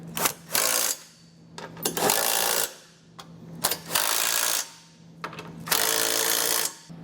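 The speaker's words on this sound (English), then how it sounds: "then we can snug all of our bolts down with the 17" A power tool with a 17 mm socket snugs down hitch bolts while a Curt trailer hitch receiver goes onto a 2019 Subaru Ascent. It comes in several loud, close, rattling bursts of about a second each, with short pauses between.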